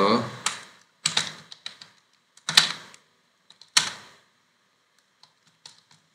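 Keys tapped on a computer keyboard while entering simple Python code in PyCharm, arriving in short clustered bursts of clicks separated by pauses, then a few sparse isolated taps.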